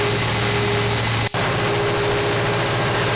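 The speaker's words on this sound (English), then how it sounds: "they're driven by big engines" A big engine idles close by with a constant heavy hum and whine, broken once by a brief dropout partway through.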